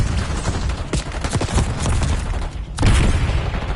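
Rapid automatic gunfire from Call of Duty: Black Ops 6 on PS5 crackles in dense, loud bursts, broken by a brief lull before another heavy volley resumes.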